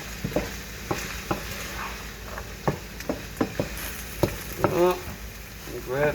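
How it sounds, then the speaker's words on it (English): Fish fried rice with carrots sizzling in a pan while a utensil scrapes and knocks against it in irregular strokes, a steady close frying hiss underneath and a brief voice-like sound near the end. "I'll stir this in a little bit there"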